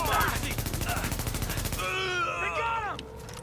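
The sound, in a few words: LMG machine gun fire in The Division video game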